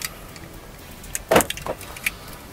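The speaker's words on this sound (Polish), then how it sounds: "Zamkniemy auto." Locking a BMW X1 with the ignition off: a single solid clunk, a softer click moments later and a brief high chirp near the end, heard close with no talking.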